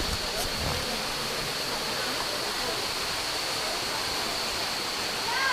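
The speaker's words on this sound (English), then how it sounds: "Arrived at the waterfall." A waterfall heard up close: a steady, loud rush of falling water with no break, filling the whole clip.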